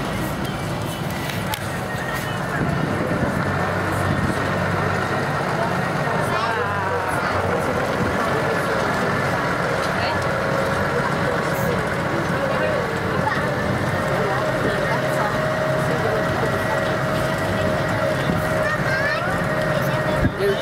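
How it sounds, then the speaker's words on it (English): Tractor engine on a ride at Adventure Valley, a steady continuous rumble running the whole time with a low drone, while people talk over it. "You driving on the tractor?"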